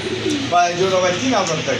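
Pigeons at a pigeon seller's place coo in short throaty rising calls, close and clear, while people talk nearby.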